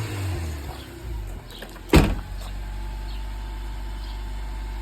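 Fourth-generation Honda Prelude engine idles steadily after a brief throttle blip, with a sharp rev burst around two seconds settling back into an even, low idle hum.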